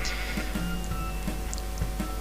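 A Minecraft sheep bleats in a few short, nasal calls spread over two seconds, fairly near, against a low steady background hum.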